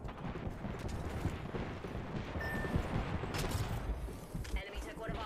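Dense, rapid gunfire crackles through an Apex Legends firefight, overlapping bursts from R99 and Alternator-type weapons packed tightly together at moderate volume, with faint voices mixed in.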